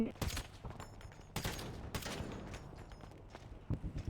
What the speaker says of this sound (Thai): ยิงหัวมันแล้วยิงหัวมัน